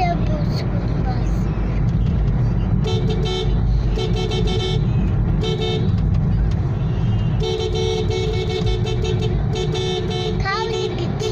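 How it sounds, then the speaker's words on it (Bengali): A school bus passes along a busy road in Barasat, West Bengal, sounding its horn in repeated loud toots over a constant rumble of engine and traffic. "School bus, school bus, পিটারপুর school bus."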